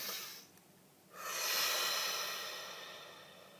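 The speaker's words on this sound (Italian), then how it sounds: "facciamo un bel respiro profondo" A long, deep inhale followed by a slow, drawn-out exhale, close and breathy, with a brief quiet pause between.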